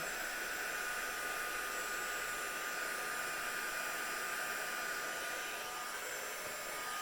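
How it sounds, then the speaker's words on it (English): Heat tool blowing hot air to melt embossing powder, a steady close whirring hiss that holds unchanged from start to finish. "After all these years, there is still something magical about watching embossing powder melt."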